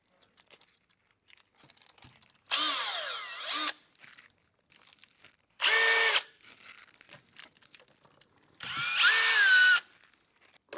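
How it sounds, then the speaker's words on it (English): A power drill drives 20 mm stainless steel screws into a sauna cabin floor in three separate whirring bursts of about a second each, close and loud, with quiet handling noises between them. "with the 20 millimeter stainless screws, we can screw this off"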